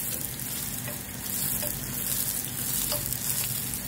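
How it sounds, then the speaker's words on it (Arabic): Sfenj dough fries in oil in a pan with a dense, loud, continuous bubbling sizzle, close up and unbroken, with faint clinks over the hiss. "نرفدها ديريكت بهاد المقله هايدا، ونبدا دوكا ندير لها الزيت من الفوق"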